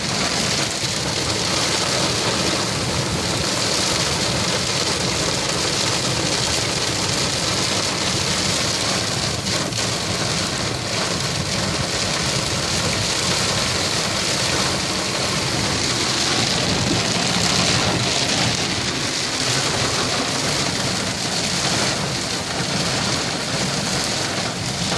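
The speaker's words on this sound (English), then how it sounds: "These rain bands are very visible coming off of Mount Baldy" Heavy monsoon rainstorm on Mount Baldy, a dense, steady roar of rain pouring down without pause at constant loudness, with no voices.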